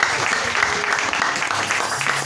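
A church congregation claps during worship, with a brief burst of dense, rhythmic applause close by and voices mixed in.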